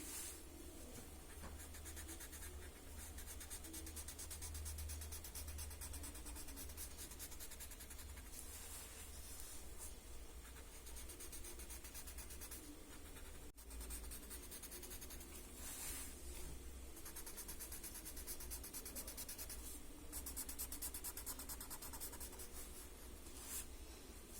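A graphite pencil shades a paper tile, giving a faint, steady scratching and rubbing of lead on paper in short repeated strokes, very quiet throughout with no voices.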